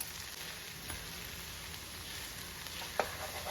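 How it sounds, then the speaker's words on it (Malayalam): Maggi noodles tossed and stirred in a frying pan, giving a steady low sizzle with a few faint scrapes and one sharper clack near the end, no talking. "ഇനി നന്നായിട്ട് നമുക്ക് ഇതെല്ലാം കൂടെ ഒന്ന് മിക്സ് ചെയ്തെടുക്കാം"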